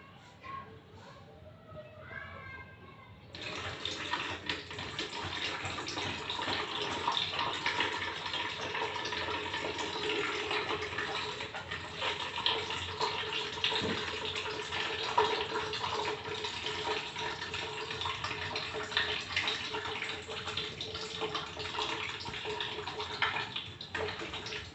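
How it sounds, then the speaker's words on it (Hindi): Water pours from a lota into a nostril during jala neti nasal cleansing, a steady splashing trickle that starts abruptly after a short quiet moment and continues with small surges, while a voice speaks at the start. "इसी प्रकार दूसरे नासिका क्षेत्र से ऐसे ही हम जल का प्रवेश कराते हैं।"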